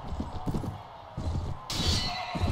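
A horse neighs and whinnies in the medieval battle game Mount & Blade Warband, joined by hoofbeats and clashing battle noise, with a bright burst of sound near the end.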